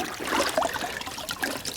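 A car wash mitt is dipped into a bucket of clean water, giving close, soft splashing and trickling with a few small dribbles, fairly quiet.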